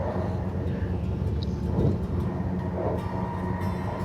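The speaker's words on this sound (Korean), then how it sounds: "기차는 생각보다 한산하더라고요" Inside a quiet train carriage travelling from Sweden toward Denmark, a steady rumble of wheels on rails fills the space with even, rhythmic clatter and a constant low hum, no voices heard.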